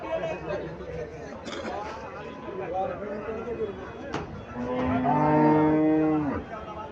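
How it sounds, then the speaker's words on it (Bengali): A Jersey cow moos once, long and low, near the end, at the Chandimura cattle market in Comilla, while a crowd chatters in the background. "এখানে একটা গাভী দেখা যাইতেছে"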